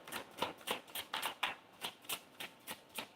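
Tarot cards are shuffled by hand, about a dozen crisp, evenly spaced slaps and clicks in a quick rhythm, close and fairly quiet with no talking.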